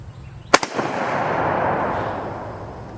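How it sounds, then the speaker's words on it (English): A bolt action rifle fired once, single loaded, gives one sharp, loud close crack followed by a rolling echo that fades over the next two seconds. "now I just proceed to fire it like I would having single loaded the rifle"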